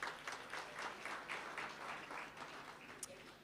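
Audience applause at a community policing indaba, a moderate crowd clapping in a steady, fairly faint wash from a distance, with a few louder individual claps and no talk.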